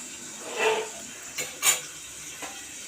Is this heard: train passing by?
no